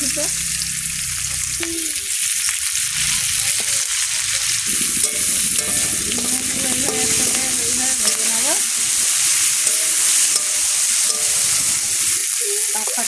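Onions and a little garlic hit hot oil in a pan used for frying prawns, producing a loud, constant sizzle with stirring scrapes and a voice under it.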